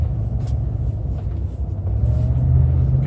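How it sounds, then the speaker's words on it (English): A 2003 Land Rover Discovery 2 drives in low range with the centre differential lock engaged. Its deep engine and drivetrain rumble holds steady, swelling slightly as gears change, close and loud, with no talk. "You can hear the gears changing much quicker."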